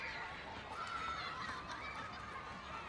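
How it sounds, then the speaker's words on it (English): Quiet, distant children's voices and playground chatter blend into a soft, steady background wash of outdoor ambience. "Some playground texture."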